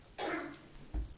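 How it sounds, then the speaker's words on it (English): A single cough rings out in a library board of trustees meeting room, followed by a shorter, muffled second burst about a second later, close to the microphone with no speech over it. "He needs cough drop more."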